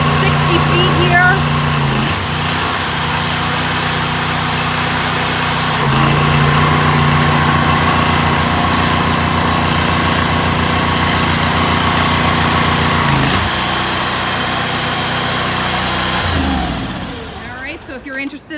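A Water Dragon pressure washer with a Kohler engine runs on a trailer build with twin 10 gpm units, a loud, steady engine drone with spray hiss that holds at an even level before easing off at the end.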